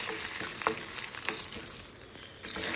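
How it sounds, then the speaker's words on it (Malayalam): Coconut oil sizzling in a pan with urad dal, dried red chillies and garlic, a steady close hiss with occasional soft stirring scrapes. "ഒരു പാനിലേക്ക് കുറച്ച് വെളിച്ചെണ്ണയും അതുപോലെ തന്നെ ഉഴുന്നും 2 വറ്റൽമുളകും 2-3 വെളുത്തുള്ളിയും ആഡ് ചെയ്ത് നമുക്കിത് നന്നായിട്ടൊന്ന് വേവിച്ചെടുക്കാം"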